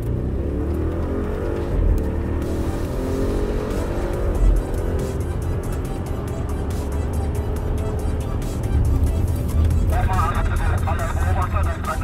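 An Audi RS7 driving itself at racing speed through the curves of the Hockenheim circuit: a steady, loud engine roar that rises with acceleration, with tire squeal through the corners.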